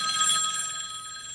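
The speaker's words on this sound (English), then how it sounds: "will you please answer that phone?" An old-fashioned telephone bell ringing loudly in a living room, a sustained metallic trill that fades slightly toward the end, with no one speaking.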